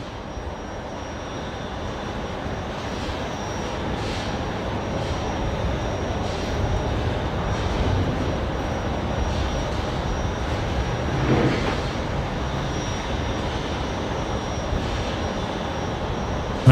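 Air New Zealand airliner taxiing at Brisbane Airport toward runway 19 left, a steady distant jet engine rumble and whine that swells slightly, with faint background noise and no talking.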